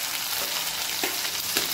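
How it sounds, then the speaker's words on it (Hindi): Chopped onion, tomato and green chili sizzle in hot oil in a pan for bitter gourd curry, a steady loud frying hiss with a few stir clatters near the middle and the end. "अब हमने जो प्याज, टमाटर और मिर्ची छोटे छोटे चॉप किए थे वो इसमें हम ऐड कर देंगे।"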